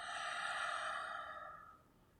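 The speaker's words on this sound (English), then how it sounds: "Let's take a deep breath." A single deep breath slowly exhaled, close and soft, a long breathy rush that fades away over about two seconds with no talking.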